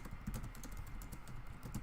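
Fingers typing a social media post on a computer keyboard, a quick, steady patter of close, soft key clicks with no talking.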